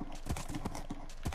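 Horse hooves clip-clop at a steady walking rhythm in the Minecraft video game on PlayStation 4, loud and close, repeating about every third of a second over a constant background hum.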